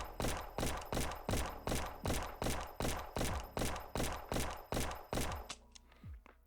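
A handgun in the shooting game Ghosts of Tabor fires about a dozen sharp shots in a steady rhythm at body targets ten meters away, each crack loud and close, ending with a brief clatter and fading tail.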